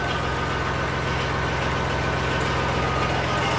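A Massey Ferguson 240 tractor diesel engine with a freshly rebuilt injector pump idles steadily and evenly at close range, a continuous low rumble with no talk over it.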